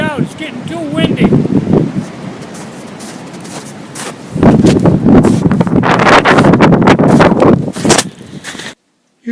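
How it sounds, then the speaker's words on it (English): Strong gusting wind buffets the microphone in heavy rushing bursts, loudest in the second half, with someone talking underneath before it cuts to silence. "It's getting too windy."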